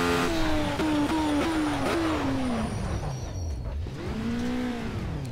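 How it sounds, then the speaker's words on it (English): A race car in Project Cars brakes hard in a straight line, its engine note falling in several stepped downshifts before dropping low and swelling back up, loud and close throughout. "For instance here, I'm just going to brake in a straight line."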